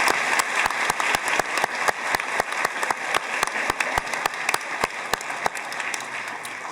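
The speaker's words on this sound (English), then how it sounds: "please, one more round of applause" Sustained applause from an audience at a school district honors night recognizing students and teachers, steady and full with sharp individual claps standing out, no talk over it.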